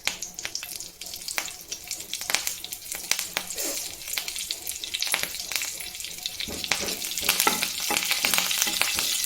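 Tempering for a chutney: mustard seeds, a broken dried chilli and curry leaves in hot oil. Loud, close sizzling and crackling with sharp popping bursts that grow busier toward the end.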